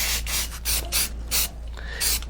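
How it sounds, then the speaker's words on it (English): An aerosol spray can sprays finish onto a carved wooden sign in several short bursts, each a close, hissing puff separated by brief pauses. "So we're just going to spray this."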